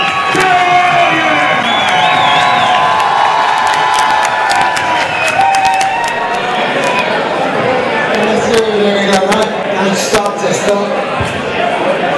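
A large crowd cheers and claps continuously, loud and close, with scattered shouts and whistles rising above the roar.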